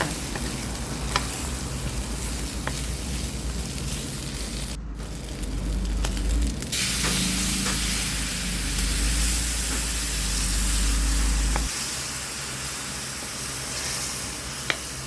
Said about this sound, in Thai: พอพริกแกงเริ่มหอม เราก็จะเอากระดูกหมูใส่ลงไปผัด